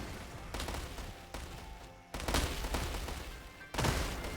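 Massed hand cannons fire in a strategy video game: a handful of heavy, booming volleys land at irregular intervals, each a broad blast that rings out and fades, heard fairly softly with no talk.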